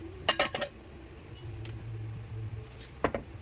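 Carrots being chopped on a board into small pieces for a stir-fry in a home kitchen, a quick burst of sharp knife taps near the start and another short cluster near the end, with quiet background hum between.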